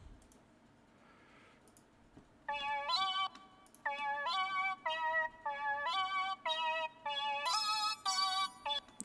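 An 8-bit chiptune synth lead preset layered with a second lead plays bright, bleepy square-wave notes in a quick rhythmic pattern after a faint intro, loud and alone with no talking.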